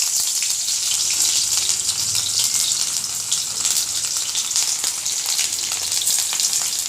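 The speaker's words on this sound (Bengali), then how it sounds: "তেল গরম হয়ে গিয়েছে, এবার পেঁয়াজ কুচিগুলো দিয়ে দেব।" Chopped onions drop into hot oil and fry, giving a loud, close, continuous sizzle and crackle that stays steady throughout, with no talking.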